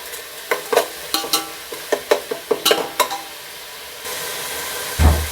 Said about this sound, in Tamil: நம்ம அரைச்சி வச்ச வெங்காயத்தை வந்து நம்ம வதக்கிட்டு இருக்கோம்